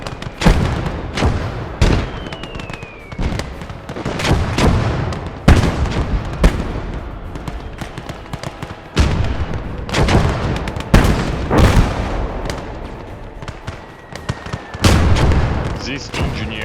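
Artillery fire in the World War II strategy game Gates of Hell, repeated heavy booms and blasts at irregular intervals with occasional whistling incoming shells, loud and close, with someone talking between and over the impacts.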